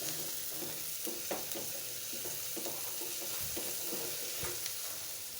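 Eggplant pieces sizzle steadily in hot oil in a pan, a dense continuous frying hiss with scattered soft pops and occasional scrapes of a spatula, no voices.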